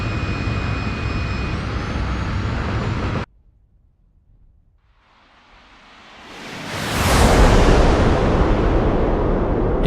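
Jet engine of an F-86F in flight in the DCS World flight sim, a steady roar that drops out abruptly, then swells back in a rising, loud whoosh that holds full and broadband to the end.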